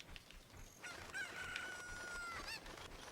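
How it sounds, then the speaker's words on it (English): Chickens clucking and a rooster-like crow from The Legend of Zelda: Ocarina of Time, with a synthetic, game-like quality, fairly faint over a steady background hum. "You mean the chickens?"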